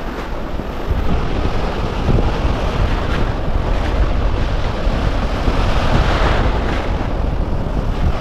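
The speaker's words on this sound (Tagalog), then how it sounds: "Ang lakas ng alon! May bagyo sa Boracay!" Strong wind and heavy surf pound Boracay beach during a rainy-season typhoon. Gusts buffet the microphone and the waves roar close and steadily, with no talk over them.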